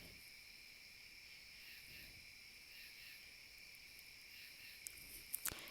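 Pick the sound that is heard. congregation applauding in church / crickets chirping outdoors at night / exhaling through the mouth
crickets chirping outdoors at night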